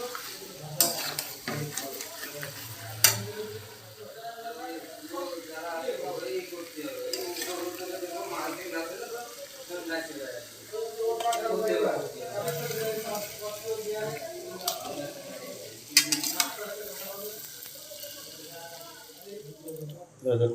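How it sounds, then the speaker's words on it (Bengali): Chicken curry meat stirred and sautéed in a pan, with steady sizzling and repeated scraping clatter of the spoon throughout and a voice murmuring faintly underneath. "মাংস আমি অর্ধেকটা তুলে নেব কষানো খাওয়ানোর জন্য"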